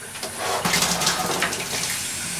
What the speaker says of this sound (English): There's some hot water.